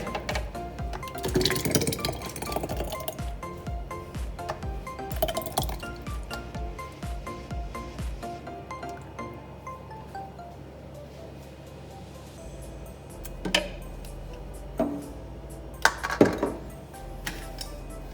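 Metal lids clinking and screwing onto glass jars of homemade tomato sauce, a busy run of close clatters and taps early, then sparse sharp clinks later with faint background hum, no talk.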